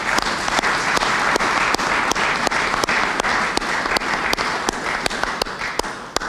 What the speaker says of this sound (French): Vous pouvez applaudir le président.